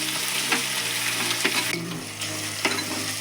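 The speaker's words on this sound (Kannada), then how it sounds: "ಟೊಮೆಟೊ ಹಾಕ್ತೀನಿ ಈಗ ಇದು ಎಣ್ಣೆ ಒಳಗೆ ಫ್ರೈ ರೀ ಇದು ಟೊಮೆಟೊ" Chopped tomato frying in hot oil in a pan, a steady close sizzle with a few soft stirring scrapes and knocks, no voices.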